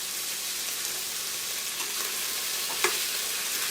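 Chopped onion sizzles steadily in a hot pan while an edamame stew cooks, a dense, even crackling hiss with a few faint stirring clicks, close and constant, with no talk.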